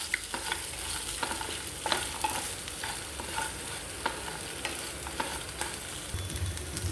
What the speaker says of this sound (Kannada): ಇದನ್ನು ಸಹ ಒಟ್ಟಿಗೆ ಸ್ವಲ್ಪ ಫ್ರೈ ಮಾಡ್ಕೊಳ್ಬೇಕು